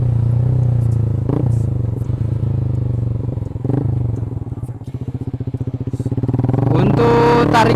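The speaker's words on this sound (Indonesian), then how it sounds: "mungkin karena efek dari knalpotnya ya yang buat tarikan motor ini lebih enak" A Yamaha MX King motorcycle engine with an aftermarket exhaust revs hard and close, the throttle rising and falling in repeated pulls with a throaty, loud exhaust.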